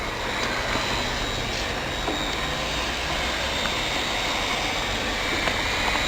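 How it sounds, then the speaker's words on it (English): PVC welding machine running steadily during welding, a continuous loud broadband hiss and hum with faint ticks, no talking. "Now we can weld."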